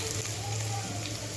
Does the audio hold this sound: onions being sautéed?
yes